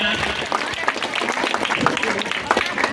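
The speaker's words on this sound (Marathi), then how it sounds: "या ठिकाणी जोरदार टाळ्या वाजूया" An audience gives loud, sustained applause at a Sindhudurg Zilla Parishad function during a lamp-lighting ceremony, with dense clapping filling the whole stretch and a voice partly mixed in.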